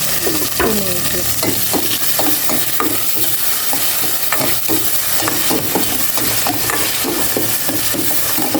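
Onions sautéing in a hot pan give a loud, steady sizzle and hiss, broken by repeated scraping and clanking as a utensil stirs them, close up with no voices.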